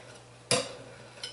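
A single quick scrape of a spoon through thick lard soap mixture in a pot, a short clattering stir followed by a faint second touch, close and alone.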